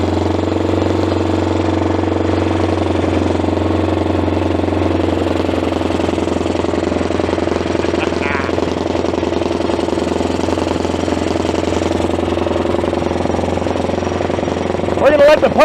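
The pony starting engine on a CAT D8 dozer runs steadily as it warms up. It makes a loud, continuous mid-pitched drone with a low hum underneath, close by and without talk.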